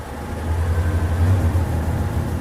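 A Bedford 300 cubic inch bus engine running on dual fuel, LPG and petrol, idles with slightly raised revs and a steady low rumble, with a faint uneven misfire in its rhythm.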